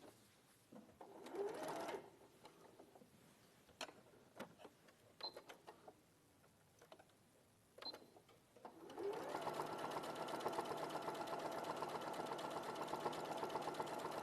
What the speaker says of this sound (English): So I'm machining along the bottom.